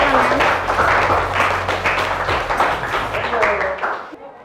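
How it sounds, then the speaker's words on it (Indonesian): Classmates clap together in a school classroom after peers present, a dense round of applause that fades toward the end, with a voice speaking over it. "Oke, beri aplaus buat teman."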